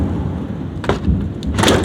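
Thunder rumbles loudly during a big storm, a continuous low roar with rain-like hiss and two brief bursts swelling over it.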